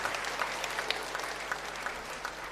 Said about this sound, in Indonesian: Tepuk tangan untuk mereka, luar biasa.